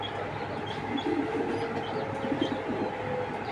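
Racing pigeons coo softly in a loft, with low, murmuring calls rising and falling over a steady background hum; no one speaks.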